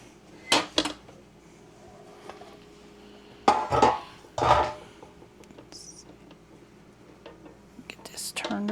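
A metal loaf pan holding baked pumpkin bread is handled and knocked about in a kitchen, a few short clanks and bumps separated by quiet gaps, with a soft voice murmuring now and then.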